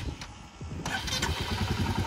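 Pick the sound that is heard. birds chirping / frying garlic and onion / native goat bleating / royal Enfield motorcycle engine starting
royal Enfield motorcycle engine starting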